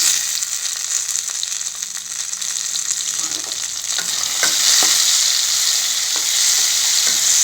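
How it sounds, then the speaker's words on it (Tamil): Tomatoes fry with browned garlic and onion in a pan for garlic puli kulambu, a loud, dense, continuous sizzle up close, with stirring scrapes and pops breaking through the hiss and no voices. "நல்லா ஃப்ரை ஆகட்டும். தக்காளியும் நல்லா வதங்கி வரட்டும்."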